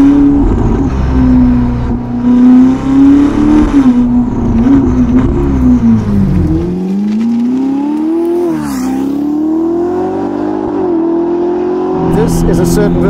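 A Ferrari SF90 Spider fitted with a Novitec exhaust revs loudly and close, its pitch swelling and falling over several rises, dropping away midway and then building again, with someone talking over the engine.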